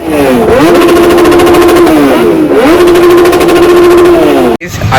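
Kawasaki H2 superbike at India Bike Week in Goa, its engine revving hard in two long rising pulls, loud and close with a sharp whine, cutting off abruptly near the end.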